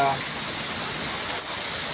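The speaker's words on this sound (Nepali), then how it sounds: "यहाँ त मोबाइलमा पनि पानी पर्नु लाग्यो साथीहरूलाई" Rain falls during a warm night walk in Delhi NCR, heard as an even, close wash of hiss with no break.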